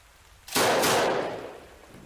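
A single loud burst of gunfire in combat against an Islamic State position, a sharp onset followed by a long rolling echo that fades over about a second and a half, with no talk.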